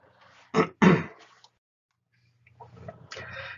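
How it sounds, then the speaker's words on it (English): A person with a slight cold clears their throat twice in quick, close, fairly loud bursts during an online webinar, followed by quieter rustling and faint sounds. "I do apologise if I'm clearing my throat a little bit."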